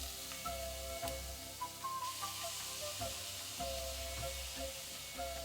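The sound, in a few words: beetroot and fresh coconut roasting in ghee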